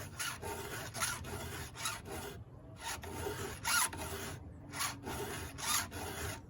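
Steady rasping strokes of a hand file sharpening a square ground chainsaw chain, repeated in even bursts with brief pauses, close and moderately loud with no talk.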